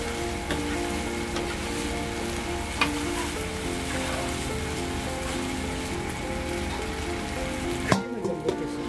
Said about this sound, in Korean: 면을 이제 가볍게 볶아주고